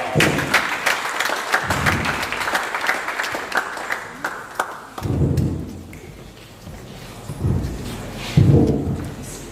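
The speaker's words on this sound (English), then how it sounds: "Please, a round of applause for her." Applause at a cybersecurity meetup in Minna honours a woman named Elizabeth, dense clapping for about five seconds that gives way to muffled thumps, rustling and low murmuring voices.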